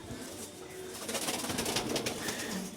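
Soft, low cooing of pigeons in a loft repeats close by, several birds murmuring over a faint background hum.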